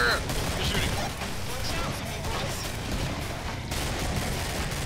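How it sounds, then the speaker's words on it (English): Rapid gunfire from the video game Killing Floor crackles in dense, continuous bursts, with players talking over the din. "Oh, look. You're shooting."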